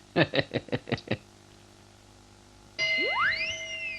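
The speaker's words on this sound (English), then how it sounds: "I'll ring the bell to see if you're in" A cartoon doorbell rings: a quick run of six bright metallic dings, then after a pause a sustained chiming tone with rising, sweeping pitches, fairly clear with no talking.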